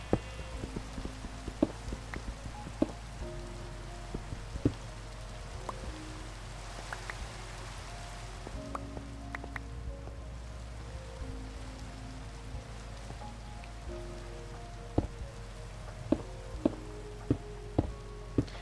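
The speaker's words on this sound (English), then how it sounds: "is there any way to disable the rain please tell me guys this is very annoying it's just a background noise" Steady Minecraft rain hisses as a constant broadband wash, with soft scattered drip taps and faint background music notes underneath, and no one talking.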